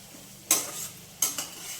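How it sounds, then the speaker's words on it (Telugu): Sliced onions fry in a pan while a spoon stirs them, a soft steady sizzle broken by two quick scraping stirs close by, with no talking. "ఉల్లిపాయ చక్కగా వేగిపోయింది"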